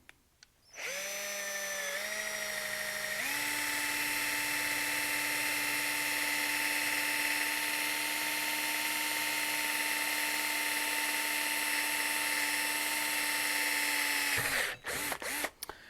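A power drill whines steadily at high speed for over ten seconds while drilling into aluminum, its pitch shifting slightly at the start, then stops abruptly.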